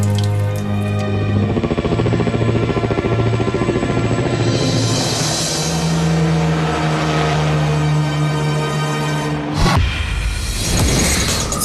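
An early 1930s helicopter drones loudly and steadily with a rhythmic rotor beat, holding for most of the stretch before the sound breaks off near the end.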